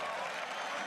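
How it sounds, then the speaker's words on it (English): A large crowd at an esports match, a 2016 All-Star event, applauds and cheers in a dense, steady wash of clapping and voices, filling the space for a brief moment. "The crowd cheers for Peke."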